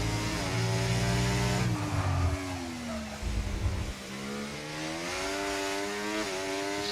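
A Formula 1 race car in the F1 24 video game laps Circuit of the Americas. Its loud, continuous engine whine rises and drops through gear shifts and braking, heard alone.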